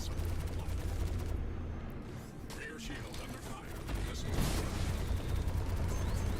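Missile launches and rapid ship gunfire in a Star Citizen space dogfight, a dense mechanical chatter of shots and rumble running continuously at moderate level beneath someone speaking.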